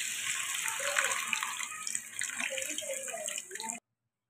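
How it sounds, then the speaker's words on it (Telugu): Water pours from a vessel into a pan of Andhra-style tamarind pomfret fish curry, a close, steady splashing gush that fades unevenly and stops abruptly near the end. "కూరకు సరిపడగా వాటర్ ఇప్పుడే వేసుకుందామండి"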